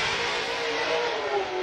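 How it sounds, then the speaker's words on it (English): Drift car engine and exhaust blasting continuously at full throttle through an outside zone during a Formula Drift Pro knockout qualifying run in Utah, a loud, steady, slightly wavering roar with no talk. "Just really fluid exhaust though."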